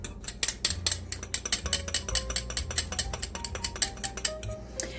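Brussels sprouts tossed with maple syrup in a bowl, a fast, continuous rattle of close clicks and taps as the sprouts knock against the bowl and each other.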